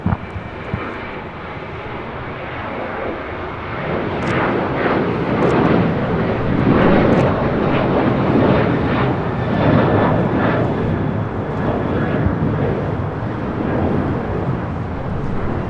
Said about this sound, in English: This is American Airlines Flight 613 taking off to Chicago O'Hare on the 737-800 in the One World livery.